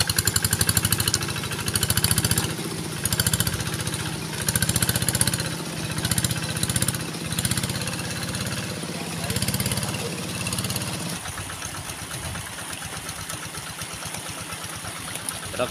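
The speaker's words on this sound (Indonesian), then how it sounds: "Traktor yang tadinya bermasalah sekarang sudah bisa beroperasi." A tractor engine, just repaired after a fault, runs steadily on its first outing, a close, loud mechanical chug that shifts partway through to a faster, rougher rhythmic beat; no talk over it.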